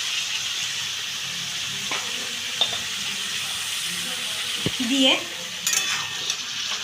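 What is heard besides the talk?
stirring dried fish with eggplant and potato in a pan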